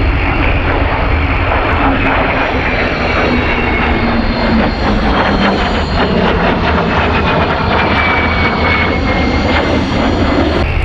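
A de Havilland Vampire jet fighter, the RAF's second jet fighter, flies past at the 2006 Leuchars Airshow, its engine a loud, steady roar that fills the air with no voices over it.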